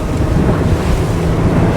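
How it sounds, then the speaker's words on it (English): Offshore ocean waves and strong wind around a Lomac Adrenalina 7 boat at sea, a loud continuous roar of surf and wind buffeting the microphone with no pauses. "Look at these waves."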